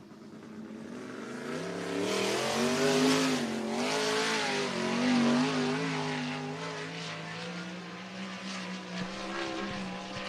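A race car laps Cottage Grove Speedway, its engine a harmonic roar that rises and falls in pitch as it accelerates and passes, heard continuously at a moderate distance.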